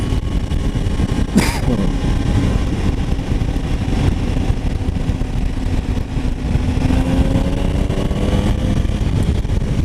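A 2019 Triumph Tiger 800 XR three-cylinder motorcycle engine runs steadily at close range, a continuous throbbing drone with a brief sharp whine near the start and slight shifts in pitch.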